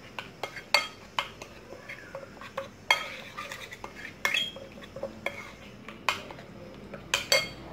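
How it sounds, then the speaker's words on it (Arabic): Ingredients for kofta with vegetables are mixed in a bowl, producing irregular close clinks and scrapes of a utensil against the dish, with sharp taps scattered through a quiet kitchen. "ونخلطوا هاد العناصر كامله"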